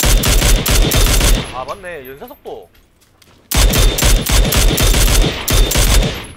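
Rifle fire in PlayerUnknown's Battlegrounds: loud, close, rapid automatic bursts that stop for a short lull and then resume, with a player speaking briefly in the pause.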